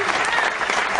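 Studio audience clapping on a TV program, a brief dense burst of steady applause with no talk over it.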